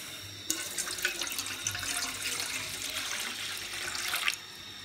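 About a bowl of water pours from a tap into a cooking pot for soup, a steady splashing stream for several seconds, close and moderately loud, with no talk.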